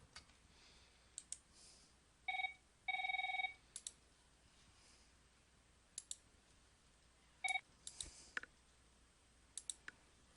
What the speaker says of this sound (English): it's the phone ringing constantly